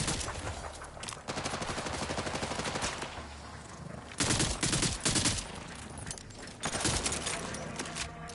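Rapid auto-burst gunfire from a video game weapon in a Borderlands-style vault hunter shooter, loud and close, firing in repeated clusters of quick shots with short pauses between bursts.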